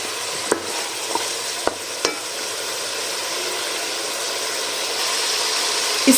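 A spoon stirs red chili powder into mutton nehari in a pot: a few sharp scraping knocks near the start, then a steady, close sizzle of frying that swells slightly at the end.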